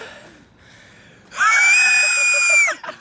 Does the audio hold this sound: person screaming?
yes